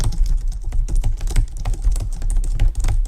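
Typing on a computer keyboard: close, brisk clicks in irregular bursts of keystrokes, with no talking.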